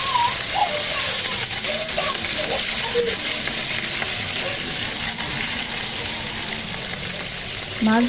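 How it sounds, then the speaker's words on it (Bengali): Hilsa fish fries in oil in a home kitchen, giving a continuous close crackling sizzle with brief clinks and faint voices underneath. "মাছ ভাজার এই যে শব্দটা"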